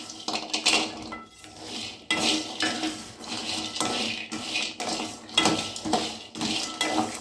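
Walnuts and other nuts being lightly warmed in a pan, a metal spoon scraping and clinking against the pan in repeated busy strokes, close and fairly loud, with short pauses between bursts.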